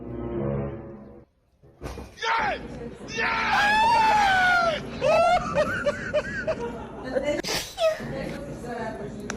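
A single loud, close sneeze bursts out after a brief pause, followed by excited shrieking voices and commotion from several people.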